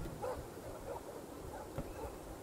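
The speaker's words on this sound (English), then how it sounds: "Ooh, I hear dogs." Dogs bark faintly in the PC game From Day to Day, a few soft distant yips scattered over a steady background.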